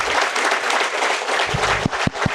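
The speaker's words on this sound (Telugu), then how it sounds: "ఒకసారి గట్టిగా మనకు మనం చప్పట్లు కొట్టుకున్నాం" A large audience at a spiritual youth gathering breaks into steady, dense applause, loud and close throughout, with a few sharper individual claps near the end.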